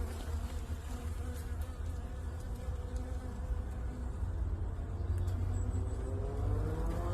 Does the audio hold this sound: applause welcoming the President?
no